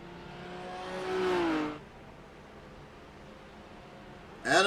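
A GT3 race car engine in a racing video game howls past, its pitch rising then falling away, followed by a quiet lull before another engine note swells in sharply at the end.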